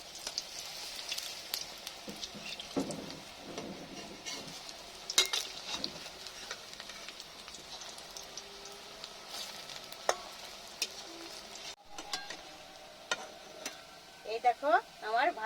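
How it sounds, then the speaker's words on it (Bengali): Hridoy horon pitha, a Bengali sweet pastry, frying in hot oil until reddish-brown, with a continuous sizzling bubble, occasional clinks of a utensil against the pan and a few louder stirring scrapes toward the end. "এরকম লাল লাল করে ভেজে তুলে নিতে হয়।"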